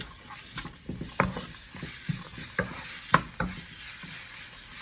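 Celery is stirred into hot and sour soup, a series of close, uneven scraping and clattering strokes of a spoon in the pan over a soft sizzle, with no voices.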